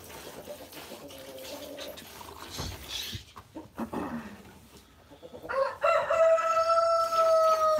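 A homestead rooster crows loud and close near the end, a drawn-out tonal call that follows a stretch of farmyard clucking and scattered noises.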